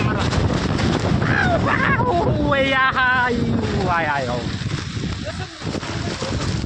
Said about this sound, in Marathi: दिस इज कॉल्ड विथ खतरनाक वारा